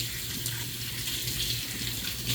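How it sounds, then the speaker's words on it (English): A cold-water tap runs in a steady, close rush of flowing water with a constant broadband hiss, alone and unbroken throughout. "here's the cold water now"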